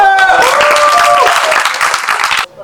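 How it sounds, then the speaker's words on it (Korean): A studio crowd breaks into steady, loud clapping at a Korean high-school fighting show, lasting about two and a half seconds before cutting off, with a sustained musical tone and brief voices underneath. "자 박수!"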